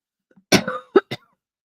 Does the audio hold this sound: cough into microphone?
yes